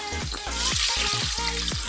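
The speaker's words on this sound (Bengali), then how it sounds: "এবার ভালো করে আলুগুলোকে আমি ভেজে নেব এই প্রেশার কুকারে" Potatoes sizzle and crackle loudly as they fry in ghee in a pressure cooker, with scraping stirs against the pot at a steady rhythm.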